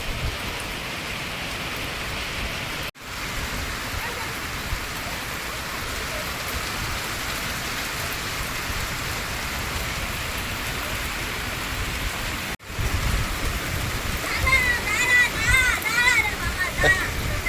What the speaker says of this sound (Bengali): হঠাৎ বৃষ্টি আসাতে ভিজে গেল